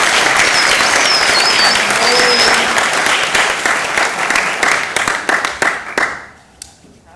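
Audience applause from a seated crowd, loud and dense with steady clapping that thins out and fades toward the end.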